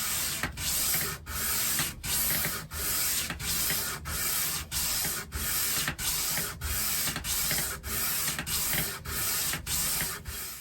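Fender Jaguar fretboard being sanded to radius with 120-grit paper, a close, steady scraping rasp in regular back-and-forth strokes of about a second each, continuous with no talk.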